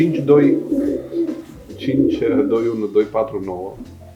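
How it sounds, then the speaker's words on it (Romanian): A marathon racing pigeon coos in low, repeated murmurs beneath someone talking close by throughout. "o bijuterie de porumbel la propriu. Este un porumbel care, dacă bine mi-amintesc, l-am și zburat la pui"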